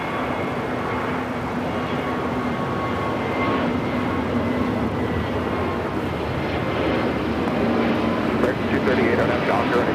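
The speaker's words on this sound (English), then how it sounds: "Next flight out, Volaris flight 4331 heading to San Salvador. It's an A320 Neo." A Volaris Airbus A320neo jet departing LAX gives off a loud, steady engine roar that holds without a break, with radio chatter heard underneath.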